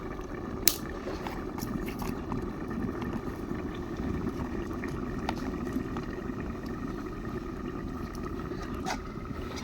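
Fish curry with river fish simmering under a lid in a covered pot, a continuous low bubbling boil with faint occasional ticks, steady and close, with no talking.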